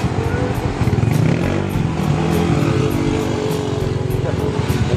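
A Yamaha Aerox 190cc scooter engine runs close and loud with a pulsing, buzzy exhaust note that rises and falls with throttle, with voices talking over it.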